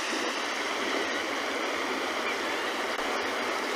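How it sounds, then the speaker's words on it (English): Steady, unbroken rush of ocean water at Cape Town, a continuous broadband wash with no distinct breaks, heard alone without voices. "Of course, the sound of the ocean."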